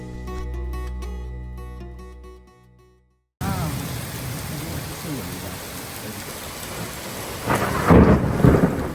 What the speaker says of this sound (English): Our planned early morning walk was overtaken with a dramatic thunderstorm, lightning, heavy rain